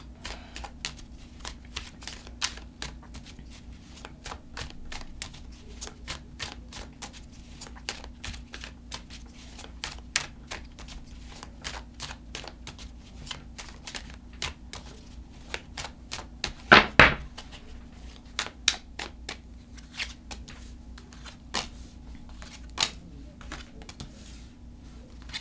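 Tarot cards being shuffled, a long stretch of fast, dry riffling and tapping with one louder burst of card noise partway through, close and fairly quiet with no voice.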